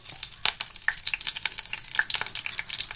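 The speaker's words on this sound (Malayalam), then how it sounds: "വെളിച്ചെണ്ണ ചൂടായി വരുമ്പോൾ 2 വേപ്പില ഇട്ട് കൊടുക്കണം." Curry leaves dropped into hot coconut oil in a pan crackle and sizzle loudly with dense spitting pops, close up and without any talk, while a fish fry is being cooked.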